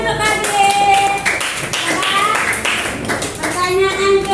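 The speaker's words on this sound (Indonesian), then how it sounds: "Tepuk tangan untuk Babil" Schoolchildren in a classroom clap together in brisk, close applause that continues over several seconds, with children's voices and talk mixed into the clapping.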